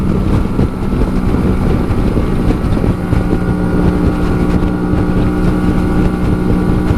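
Steady Honda Shadow 125 motorcycle engine drone at low revs with strong wind rush, cruising on a highway, a continuous low rumble holding an even pace throughout, no voices.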